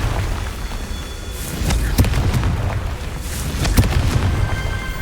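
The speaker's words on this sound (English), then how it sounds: "Confringo!" Spell blasts from the Confringo curse in Hogwarts Legacy, a string of sharp booming bursts over a dense, rumbling low roar, several loud impacts spaced a second or so apart.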